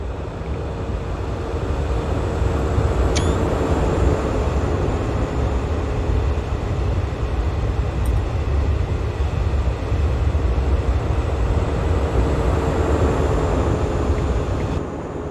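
An LNER Class 43 HST train in Train Simulator 2020 passes by at speed, a steady, loud rushing roar of engine and rails that holds for the whole stretch with no talk.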